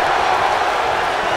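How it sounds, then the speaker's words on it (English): A wrestling crowd in the WWE 2K19 video game, at a women's Royal Rumble match, keeps up a steady, dense roar of cheering with no break. "Listen to this crowd"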